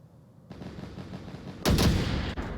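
Gunshots in the VR video game Onward come as a loud, sharp blast over a steady rumbling game background, with a faint thud before it and no talk.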